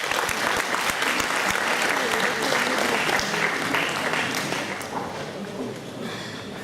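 Audience applause at an annual school function greets a speaker taking the stage, a dense, steady clapping that holds loud for several seconds before easing slightly toward the end.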